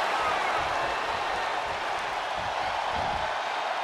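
A large arena crowd in the WWE 2K23 wrestling game, during an iron man match, produces a steady, loud wash of cheering and roaring that holds constant throughout.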